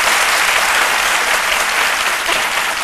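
Loud, dense applause from a television studio audience on a French-language midday talk show, continuous and close throughout.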